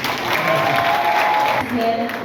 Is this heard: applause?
yes